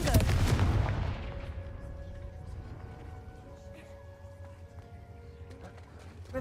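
The Confringo blasting spell cast in Hogwarts Legacy makes a sharp, loud fiery burst that quickly fades into a low rumbling tail, with soft game ambience behind it.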